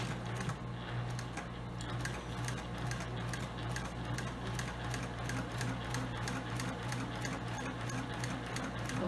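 A sewing machine back stitching fabric for a storage box runs steadily and close, its rapid needle clatter ticking in an even rhythm over a low motor hum, with no one speaking.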